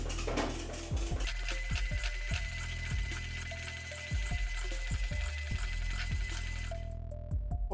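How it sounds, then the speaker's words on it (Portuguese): An Epson LX-300 dot matrix printer prints a decal with a steady, buzzy mechanical chatter and repeated thumps of the carriage and paper feed, heard close up with no talk. "aí sim, eu ligo a impressora."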